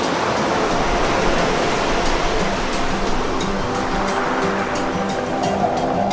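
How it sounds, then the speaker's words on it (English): Surf crashing against rugged volcanic cliffs beside a black-sand bay on Lanzarote, a continuous loud roar of breaking waves with no clear pauses, close and steady throughout. "the waves are crashing against the rugged cliffs again"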